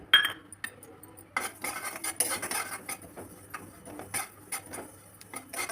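Roasted coriander seeds poured from a pan onto a plate, a dry rattling clatter of small seeds with metallic scraping and clinks of utensils, close and uneven, no voices.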